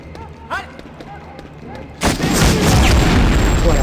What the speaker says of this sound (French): pour une explosion, c'en est une belle.